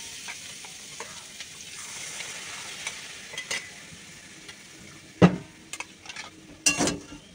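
Rice and soaked mustard seeds sizzle in a hot pan on a gas stove, a low steady frying hiss broken by sharp scraping strokes and clinks of a stirring utensil, the loudest near the end.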